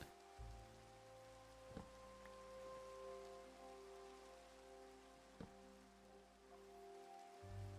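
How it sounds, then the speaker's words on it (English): Steady rain pattering down in the Minecraft game world, a continuous soft hiss running the whole time under a low steady hum, with a couple of faint thumps and no talking. "And of course it's raining, and I can't even skip the rain."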